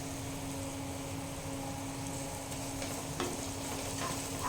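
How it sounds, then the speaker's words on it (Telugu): Fish curry masala with ginger is stirred in a pan, a constant close sizzle with a steady hum underneath and occasional spoon scrapes, no talk. "అల్లం వేసినాం కదా, ఇప్పుడు మనం కలుపుకుంటున్నాం"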